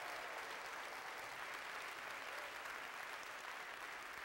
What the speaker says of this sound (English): Give yourself a great big round of applause.